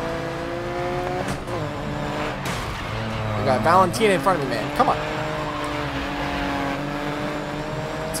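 Race car engines revving and tires squealing in the video game GRID Legends, played on a wheel, with shifting engine tones and a brief squeal under someone talking excitedly.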